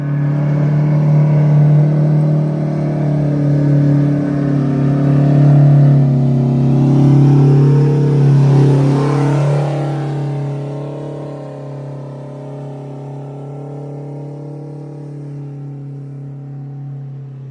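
A Detroit Diesel 8V92TA in a Wanderlodge bus, which has coolant in its oil, runs on a dyno with a loud, steady low drone that swells under load and then eases to a quieter idle.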